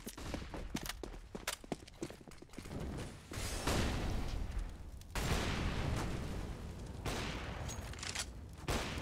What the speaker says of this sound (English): Big exchange of grenades on Banana to fight for position.